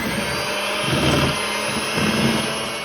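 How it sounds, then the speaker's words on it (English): Electric mixer beating chocolate fudge instant pudding mix in a bowl, a steady loud motor whir with a few surges in pitch and load as the blades work through the thickening mixture. "I've got a box of chocolate fudge instant pudding that I add next. I'm going to beat this until thoroughly combined."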